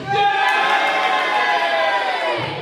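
A wrestling crowd cheers and shouts in a sustained, loud roar, many voices blending into a dense wall of noise that holds steady throughout.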